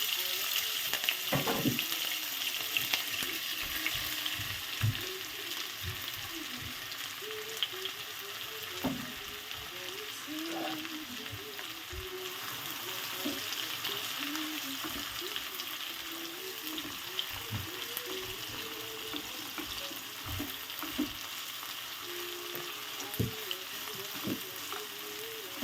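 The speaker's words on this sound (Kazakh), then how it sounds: "Енді мына майдың үстіне сарымсақпен морковьті қуырып аламын" Carrots and garlic fry in oil in a pan as the base for a gravy for fish cutlets. A steady close sizzle runs throughout, with occasional spoon scrapes and stirring knocks and no clear talk.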